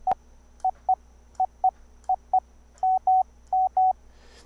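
Morse code tone arriving over the internet via Mumble: a steady sidetone beeping in short dits and longer dahs, about a dozen clean keyed pulses in an irregular rhythm, clear and alone with a faint hum underneath.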